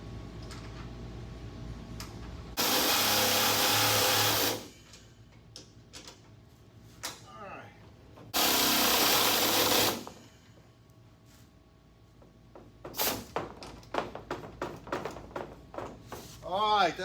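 Two bursts of a loud, high-pitched power drill boring holes in a Ford Thunderbird race car for seat mounting, each about two seconds long, separated by ticking and clicking mechanical handling sounds.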